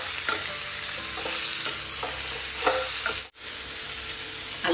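Pork with spices, Kashmiri red chilli powder, turmeric and homemade tomatoes, plus potatoes, frying over a medium flame: a steady close sizzle with occasional stirring scrapes, briefly dipping near the end.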